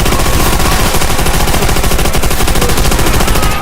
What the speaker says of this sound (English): What happens when getting sprayed by the goddamn MG42?